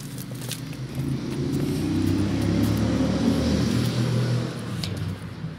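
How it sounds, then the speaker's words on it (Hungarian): Two motorbikes pass by outdoors, their engines swelling into a broad, steady rumble that holds for a few seconds, then fades as they move away. "Kettő motor ment el."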